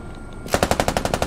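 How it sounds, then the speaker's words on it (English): Automatic fire from a PKP machine gun in the military shooter Squad, a quiet lull then a sudden rapid burst of about ten evenly spaced loud shots that carry on steadily to the end. "We're getting shot at by PKP."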